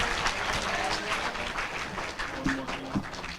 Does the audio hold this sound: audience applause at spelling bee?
yes